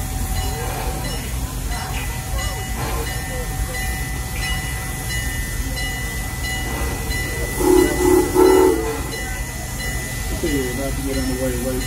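An amusement park train at Busch Gardens rumbles and hisses along at close range, with voices talking over it and a brief whistle-like tone partway through.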